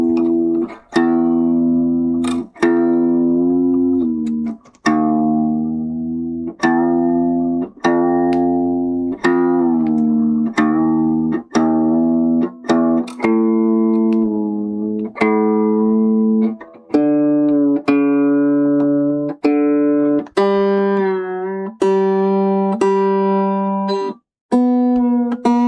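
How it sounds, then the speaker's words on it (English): Musical instrument being tuned, a string of distinct plucked notes struck one after another, each ringing out and decaying, pitches shifting gradually upward toward the end, clear and close with no talking. "I think I need to have a tune up, hold on."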